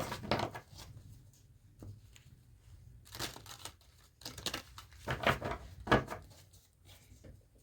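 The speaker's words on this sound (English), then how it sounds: "I'll shuffle these cards and we'll see what else we have to work with." A deck of tarot cards is shuffled close by in short papery bursts of riffling and crinkling, with pauses between several quick flurries.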